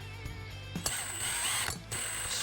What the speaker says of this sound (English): So when you're drilling with a hole saw